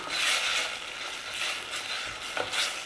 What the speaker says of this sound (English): And we are in with some dried oregano. Give it a stir through.